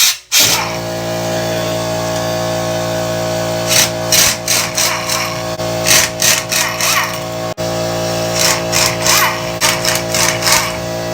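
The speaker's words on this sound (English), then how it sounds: "Air tools." A steady mechanical hum runs throughout while a pneumatic air tool fires in repeated short bursts, loud and close, while lowering a TDI car.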